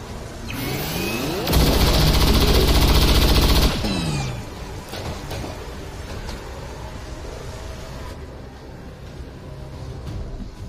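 Gunfire in the video game XCOM 2: a loud, sustained automatic burst lasting about two seconds, followed by a fading mechanical rumble and quieter game ambience.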